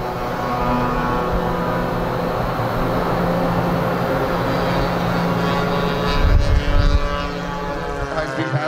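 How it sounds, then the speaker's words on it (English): A warbird aircraft making a high-speed pass over the runway produces a steady loud engine drone that swells briefly near the end, with faint talk underneath. "High speed passes over the runway."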